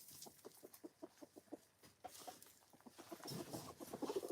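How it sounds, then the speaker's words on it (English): A rooster inside a house clucks in a steady series of short, soft, evenly spaced notes, followed by a louder, busier stretch of clucking and fluttery sounds near the end; close and quiet. "Are you a house rooster?"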